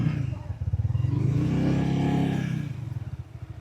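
A motorcycle being wheeled indoors at a view deck and cabana in Montalban, Rizal, its engine idling with a low, pulsing putter that rises briefly in pitch before settling back.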